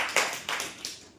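Children in a classroom clapping their hands, three quick sharp claps in a row, close and fairly loud, with no talking.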